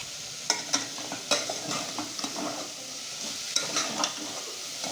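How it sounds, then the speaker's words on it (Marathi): Moth beans frying in a pan for a Maharashtrian matki bhaji are stirred with a spoon, giving steady close-up scraping strokes over a continuous oily sizzle, without any voices. "हे असं चांगलं हलवून द्यायचं"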